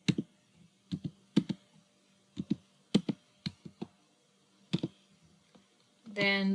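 Someone types a command on a computer keyboard: clusters of close, crisp key clicks in short irregular bursts, then a louder rustle at the end.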